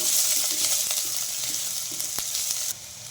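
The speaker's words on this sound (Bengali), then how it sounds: "একটু তেজপাতা দিলাম, লং দিলাম ও এলাচ দিয়ে দিলাম। এবার আমি একটু ভালো করে নেড়ে নিব।" Bay leaf, cloves and cardamom stirred in hot oil for a chicken curry, a loud, close hiss of sizzling with scraping stir strokes that drops off sharply near the end.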